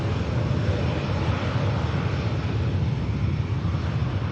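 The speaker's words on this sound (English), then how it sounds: "look at this stunning 350 on the taxi" An Airbus A350 airliner taxis at Manchester Airport, its engines a steady broad roar heard from a distance with wind noise over the microphone and no voices.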